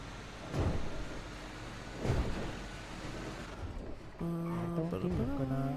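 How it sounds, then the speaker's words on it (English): Deep thunder claps roll twice over a steady wash of rain in a NoPixel roleplay game storm, close and heavy, then a tonal electronic sound rises near the end. "I didn't even realize how close it is to a storm."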